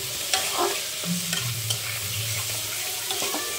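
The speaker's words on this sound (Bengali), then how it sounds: "দেবো হোমমেড গুঁড়ো মশলা 1/2 চামচ মতন, দিয়ে আবার একটু নাড়াচাড়া করি।" Food being stirred in a frying pan after homemade ground spice mix is added, with a steady soft sizzle and repeated scraping strokes of a spoon against the pan, close and moderately loud, with no talk.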